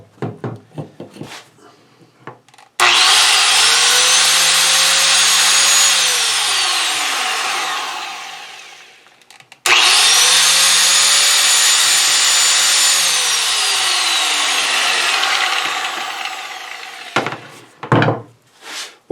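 An angle grinder runs up to speed twice, each time whining steadily at close range for several seconds before winding down as it coasts to a stop, with handling clatter in between.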